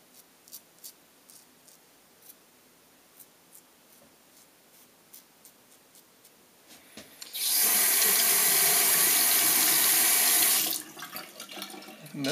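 Tap water runs steadily into a sink for about three seconds as a face is rinsed after a shave, loud and close, starting and stopping abruptly amid faint small handling ticks.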